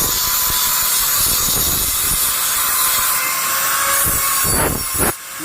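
Metal being cut at a blacksmith workshop where sickles and knives are sharpened, a harsh, continuous grinding screech with rhythmic rasping strokes, loud and close.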